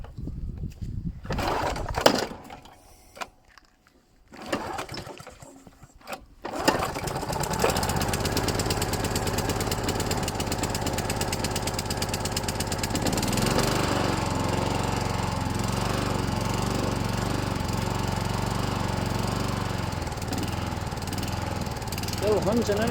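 A Hunter petrol lawn mower is pull-started on choke: a few rough sputters and cranking attempts, then the engine catches and runs loud and steady, slightly hunting, with a person talking over it.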